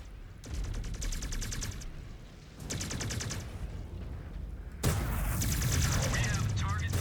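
Mech weapons in MechWarrior 5 Clans firing at enemies, repeated rapid machine-gun style bursts in separate volleys with mechanical clatter, and a heavier blast near the end.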